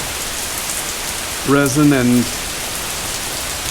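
Heavy rain pours steadily onto a boat's top deck, recently repaired with resin and fiberglass, as a constant loud hiss; someone speaks briefly over it.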